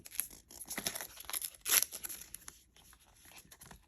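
Packaging for sky blue AirPods Max headphones is torn and crinkled open close up, with a quick sequence of papery rips and rustles that peaks in one louder tear and then fades into softer handling.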